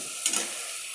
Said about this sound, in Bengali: টমেটোটা দিয়ে একটু নাড়াচাড়া করে যখন মশলাটা পুরোটা কষে যাবে, টমেটোটা গলে গেলে বেশি ভালো হয়